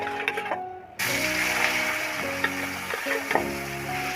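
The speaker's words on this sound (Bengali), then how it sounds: "কড়াইতে বেশ কিছুটা পরিমাণ তেল দিয়ে বেশ ভালোভাবে গরম করে এবার মাছগুলোকে আমি ভেজে নেব" Fish fry in hot oil in a kadai, a bright steady sizzle that starts abruptly and keeps hissing, with a few faint clinks from cookware and no talking.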